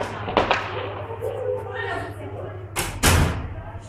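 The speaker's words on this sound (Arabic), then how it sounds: "الله أكبر، قصف على مدينة الرسن." Shelling in the city of Rastan in Homs, with rockets falling: a couple of heavy thuds and one louder, nearer blast, mixed with voices shouting.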